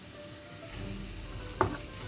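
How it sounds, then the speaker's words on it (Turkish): Chopped onions with diced red kapya pepper and green sivri peppers sizzle steadily in a pan, a close, continuous frying hiss that swells after a quiet start, with one brief clink of stirring near the end. "Biberlerimizi de soğanımızla beraber yaklaşık 2-3 dakika kadar kavuruyoruz."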